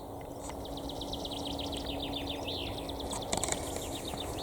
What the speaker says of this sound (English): the sound of the birds and everything is so beautiful today